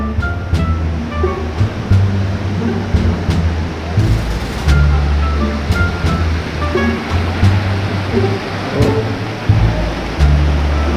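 Continuous rushing water fills the clip, loud and close, with a steady churning wash and faint knocks underneath.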